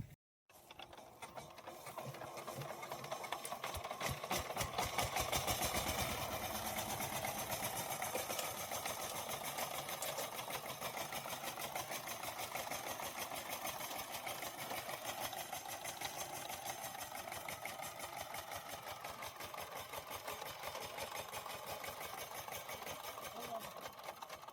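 A power tiller engine runs steadily in a muddy, waterlogged field, its continuous mechanical drone and rattle holding at an even, fairly loud level for the whole stretch, with a voice speaking over it.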